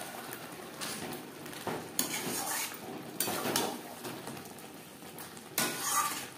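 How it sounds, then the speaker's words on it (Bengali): Fish with red chilli powder stirred in a pan, repeated bursts of spoon scraping and clinking over a soft sizzle. "মাছের সাথে রেড চিলি পাউডার বেশ ভালো করে মিক্সড করে দেব।"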